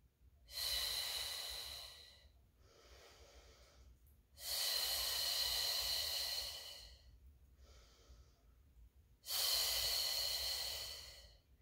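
Slow, deliberate breaths during a Pilates mat class in a garage gym, three long loud airy exhalations alternating with quieter inhalations, close and steady, no talking.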